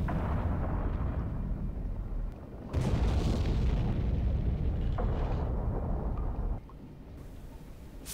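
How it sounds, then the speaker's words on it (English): Deep, rumbling booms and blasts roll continuously in the submarine video game Silent Hunter 3, heavy and muffled as if at a distance, with no talking. "Yeah, explosions far behind us."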